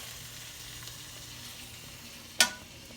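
Bacon fries in a dry pan with no added oil, giving a soft continuous sizzle, with one brief sharp crackle or pop near the end and no voices.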